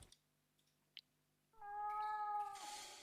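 A cat meows in The Last Door video game, a single drawn-out, plaintive meow rising after a quiet stretch with a few faint clicks, heard alone and fairly clear.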